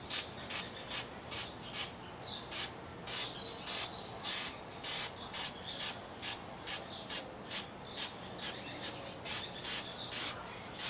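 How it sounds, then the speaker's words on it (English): Dark spray paint hisses onto a 3D dinosaur model in a long series of short, even bursts, roughly two each second, close and steady, with no voices. "I'm concentrating most of the dark spray"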